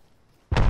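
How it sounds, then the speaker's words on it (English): Arc star thrown and going off in a battle royale shooter: brief quiet, then a sudden loud burst that stays sustained to the end. "Throwing an arc star."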